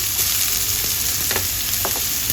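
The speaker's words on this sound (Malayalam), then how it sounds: "സവാള നന്നായിട്ടൊന്ന് വയറ്റിക്കൊടുക്കും" Thinly sliced onion sautéing in hot oil for a chicken curry, a loud, steady sizzle close up with a few light stirring taps and no speech.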